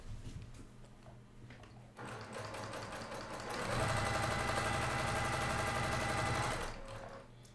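A sewing machine stitches quilt pieces for a star sampler quilt, starting after a quiet moment and running in a loud, rapid, steady mechanical whir that speeds up before stopping near the end.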